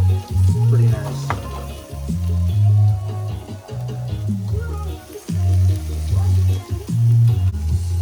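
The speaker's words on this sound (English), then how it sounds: "we want these sardines to fry up pretty nice." Sardines fry in a pan with a steady sizzle, stirred now and then with soft scraping, while a voice talks over the cooking at times.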